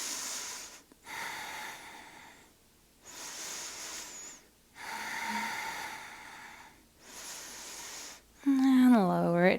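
Deep, slow breathing held in a yoga pose: about four long, close breath cycles, each a soft airy rush separated by quiet pauses, before a voice begins speaking at the end.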